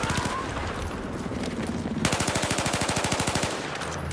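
Rapid automatic gunfire rattles in a video game battle on the Golmud Railway map, with scattered shots first and then a long, fast, evenly spaced burst close by.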